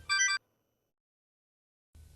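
A mobile phone ringtone plays a short bright melodic burst, then goes silent, and a second ring begins near the end.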